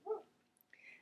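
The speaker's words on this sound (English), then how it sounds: "That's my dog, Maisie." A dog barks outdoors, one short close bark followed after a pause by a higher, fainter whining yelp.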